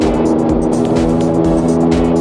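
A street go-kart driving fast through Osaka, its small engine droning loud and close with a steady buzzing note, wind and road noise pulsing as it speeds along.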